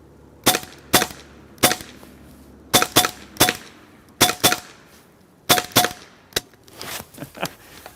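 Sharp shots from a Hatsan Bader PCP .22 caliber (5.5mm) air rifle, fired in quick pairs and singles, about a dozen cracks over several seconds, close and loud with brief gaps between bursts.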